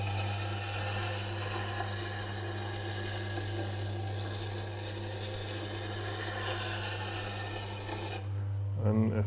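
A woodturning tool is held against a Tormek sharpening stone, producing a continuous grinding rasp over the machine's steady low motor hum, which cuts off near the end with no talk.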